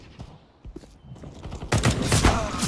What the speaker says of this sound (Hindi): पीछे से गोली मारो